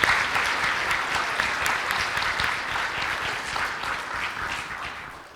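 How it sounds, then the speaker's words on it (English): Sustained applause from an audience at a computer science department summit, a dense, even wash of many hands clapping that holds steady and tapers slightly at the end, with no talk over it. "let's give her a round of applause"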